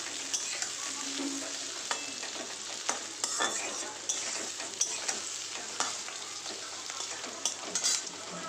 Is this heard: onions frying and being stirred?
yes